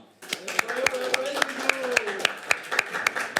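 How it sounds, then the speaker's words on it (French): Audience applause at a French game-show contest, regular sharp claps ringing out under steady music and crowd noise, fairly loud and close. "Tonnerre d'applaudissements!"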